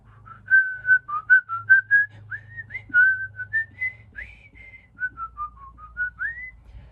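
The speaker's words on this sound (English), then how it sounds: "here's a little montage with some whistling in the background" Someone whistles a wandering melody of short and held notes, fairly close, over a faint low hum.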